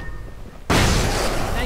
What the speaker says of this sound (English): I'm just gonna pop a flashbang and destroy all of these things